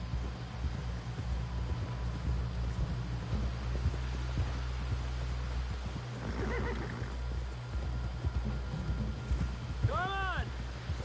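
Horse hooves clip-clop in the video game Red Dead Redemption II, a steady trotting rhythm under a low engine-like hum, with a brief whinny near the end and speech in the background.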